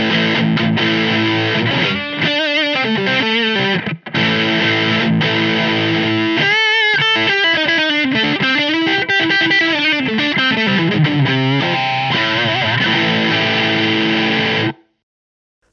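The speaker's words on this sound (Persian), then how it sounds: "ما خیلی موقع از نویز استفاده میکنیم برای اینکه بخوایم صدای در واقع جذابتر و متفاوتی از گیتار بگیریم" An electric guitar played through an amplifier with heavy distortion and effects gives a dense, sustained wall of tone for about fifteen seconds, loud and continuous with brief dips, before cutting off abruptly.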